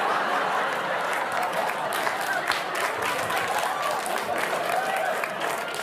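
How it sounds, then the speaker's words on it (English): A studio audience at Saturday Night Live's Weekend Update applauds a joke. The clapping is loud and sustained, with scattered chuckles mixed into the steady wash. "Don't applaud that much."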